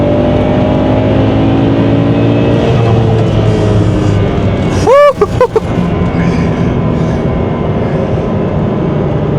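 A BMW 335i with the N55 engine, running on E85 fuel, drones steadily and loudly from inside the car as it accelerates, with a brief sharp rising whine of spooling or shifting partway through.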